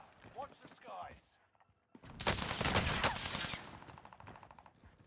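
A well gun fires in Warzone, a dense burst of loud shots that lasts a couple of seconds after a voice speaks briefly and a quiet pause, then fades into softer noise.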